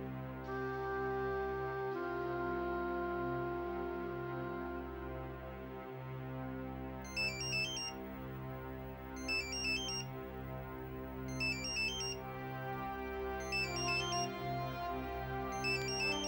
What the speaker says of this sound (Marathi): जानकी ताईला फोन लावू का?